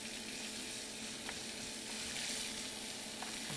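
Diced onion frying in hot oil in a pan, a quiet, even hiss of sizzling with a couple of faint stirring ticks, no voices.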